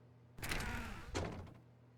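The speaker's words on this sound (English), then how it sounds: "When Stanley came to a set of 2 open doors, he entered the door on his left." A door in the video game The Stanley Parable opens with a sudden thunk, followed about half a second later by a second thump, both fairly near and alone against a low hum.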